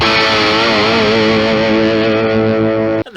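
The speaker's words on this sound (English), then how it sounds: "Sludge definitely comes to life with a little bit of dirt" A Gibson Artist Proof Psychedelic Lovedrops Flying V electric guitar played through heavy distortion rings out as one loud, sustained sludgy chord before being cut off abruptly at the end.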